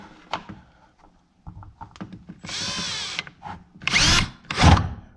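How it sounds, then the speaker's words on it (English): A power drill whirs in several bursts, the longest about a second, the rest shorter, close and loud, with small clicks and handling knocks between, during an LED headlight bulb install on a Dodge Challenger. "let us do some drilling."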